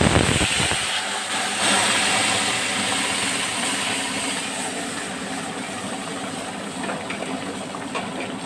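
Masoor dal hitting hot oil tempered with cumin, bursting into a loud, close hissing sizzle that gradually settles into a steady crackle with no talk.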